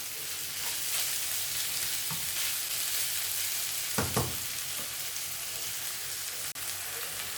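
Chicken mince frying in a pan for a stir-fried noodle dish: a constant close sizzle, with a couple of brief stirring scrapes partway through.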